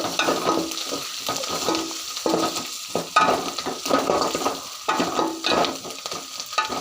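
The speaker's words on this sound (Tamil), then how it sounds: "இப்போ கருவேப்பிலையே சேர்த்துக்கலாம் இதையும் போட்டு நல்லா கலரி விட்டுலாம்" Curry leaves and green chillies fry and sizzle in hot oil in a pan, stirred in repeated bursts with a ladle; the crackle stays loud and close throughout, with no one talking.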